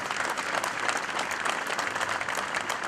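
Steady, dense applause from an audience filling the whole stretch at an even, loud level, with no voices standing out above the clapping.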